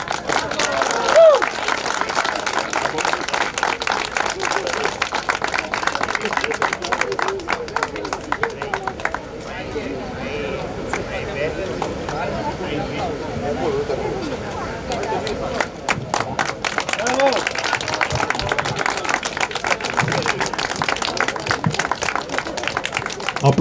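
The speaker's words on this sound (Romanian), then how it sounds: "Aplauze pentru frumoasele sportive." Crowd applause and cheering for athletes at the finish line of the fourth edition of a trail race, with steady clapping throughout, thinning in the middle and swelling again near the end, a voice talking over it.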